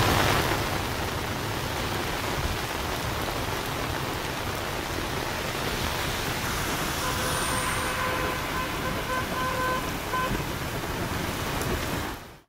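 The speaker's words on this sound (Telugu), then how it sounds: "గంట నుంచి నాన్ స్టాప్ గా వర్షం కురుస్తోంది." Heavy nonstop rain pours down in Hyderabad, a loud, dense, unbroken hiss that holds steady throughout before cutting off abruptly at the end.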